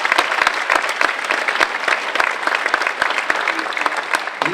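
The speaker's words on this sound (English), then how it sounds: "a big round of applause for all of the candidates here tonight" Audience at a candidates' debate breaks into sustained, dense clapping, loud and close, with no voices over it.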